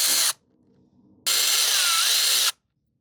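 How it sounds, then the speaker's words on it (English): A power tool spins out two 7mm bolts in the wheel well of a 2025 Ford F-150, heard as two close, loud whirring bursts, a short one then a longer one, with a quiet gap between. "remove the 2 7mm bolts that are in the wheel well right here"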